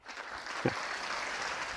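Brief burst of crowd applause greeting Mickey, a macaw, at a wildlife show, soft and steady with a sharper clap near the start.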